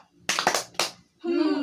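Classroom children doing a 'tepuk mantap' clap chant: a quick cluster of sharp claps, a brief pause and one more clap, then young voices chanting together.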